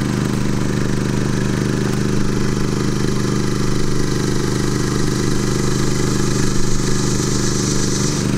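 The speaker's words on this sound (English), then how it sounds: "we'll see what kind of noise output we have" A Champion dual fuel propane/gasoline portable generator drones steadily at a constant idle, a close mechanical hum and buzz with no change in pace and no talking.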